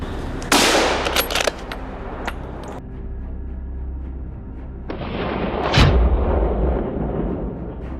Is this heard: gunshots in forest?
yes